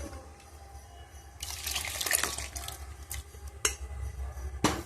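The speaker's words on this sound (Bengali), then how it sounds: "তো একটু পাতলা করার জন্য এর মধ্যে আমি একটু গরম জল দিয়ে দেবো।" Hot water is poured into a pot of ghugni in a home kitchen, a splashing pour of about a second followed by a few short sloshes and clinks of the pot, fairly close and quiet.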